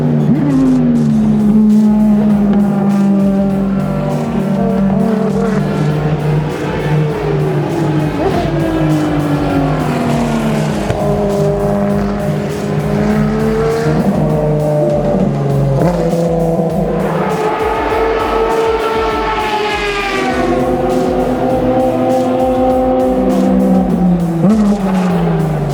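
Ferrari cars race on a track, loud and close, with engines wailing up and down through the gears as they pass repeatedly, plus brief tire squeal and a continuous layered roar of several cars.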